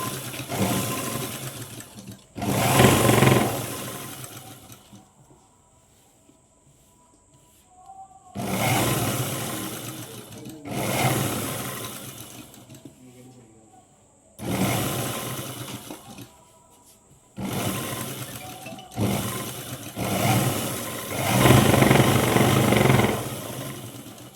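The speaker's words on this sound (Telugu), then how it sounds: "ఇప్పుడు దీని మీద ఒక కుట్టు వేస్తున్నాను" A sewing machine stitches the lining of a Punjabi dress in several bursts of rapid, loud whirring, each run lasting a few seconds and separated by quiet pauses.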